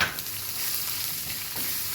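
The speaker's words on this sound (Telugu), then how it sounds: "కొంచెం మినపప్పు, కొంచెం చాలు, మినపప్పు, జీలకర్ర, ఆవాలు, 2 మిరపకాయలు వేసి పోపు వేస్తున్నాను." Urad dal, cumin, mustard seeds and two dried chillies sizzle in hot oil for a Telugu yogurt-chutney tempering, a steady close frying hiss with a few faint stirring scrapes and no talk.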